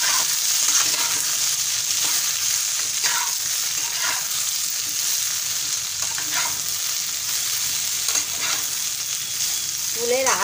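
Jujube pickle is stirred and fried in a pan: continuous close sizzling with repeated scraping strokes of a spoon at an irregular rhythm throughout.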